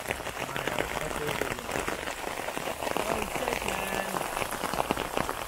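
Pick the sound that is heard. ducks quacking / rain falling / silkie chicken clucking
rain falling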